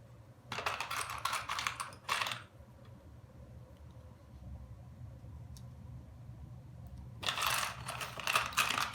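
Plastic sewing clips snapping onto zipper tape and fabric for a cosmetic bag, a few quick bursts of sharp clicks close by, separated by a quiet pause, with no talk.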